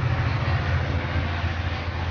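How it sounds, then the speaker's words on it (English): A low, steady rumble of a passing train, moderately loud and continuous, with a muffled mechanical hum and no voices. "That's a train."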